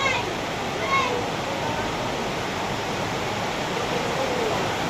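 Water leaks and flows strongly, producing a dense, continuous rushing hiss that stays loud and even throughout, with faint voices barely showing beneath it.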